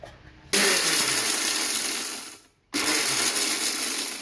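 A kitchen mixer grinder coarsely crushing whole dry spices such as sesame and pepper, a loud rough whirring burst run in two pulses with a brief stop between them.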